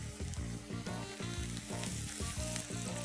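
Onions frying and being stirred in a pan while making restaurant-style gravy, a steady sizzle with repeated scraping, stirring strokes in a rhythmic pattern, close and fairly loud with no voices.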